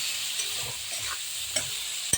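Beans fried in a pan with turmeric and a little sweetening, stirred with a utensil: a steady close sizzle under soft scraping strokes, with two sharp clinks near the end.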